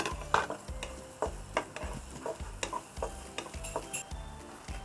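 Minced pork and shallot fry in a pan with little added oil, giving a steady low sizzle broken by repeated scraping and clinking as a utensil stirs the mixture close up.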